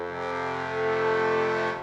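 A sustained chord from three trombones, one bass and two tenors at a low dynamic, rich and buzzy, steady for about two seconds before fading.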